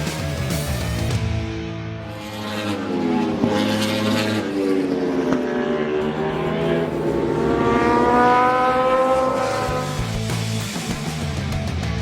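Ducati Panigale V4 superbike ridden at speed around Buddh International Circuit, a loud sustained engine roar with rising and falling revs through corners and the chicane, continuous and close throughout.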